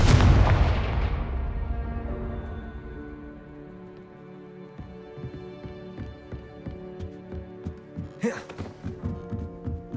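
A Confringo spell blast in Hogwarts Legacy, a heavy booming explosion up front that rings and decays, followed by rhythmic thumping impacts and a brief sharp crackle near the end.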